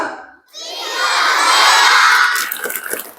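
A group of children shouts a loud, unified response in unison after a brief pause, their voices swelling and then trailing off into scattered chatter.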